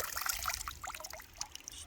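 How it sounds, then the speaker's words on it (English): Water poured off a gold pan after panning hard-packed dirt, a short soft trickle and dribble with small splashes, quiet and close. "you pour out all the water"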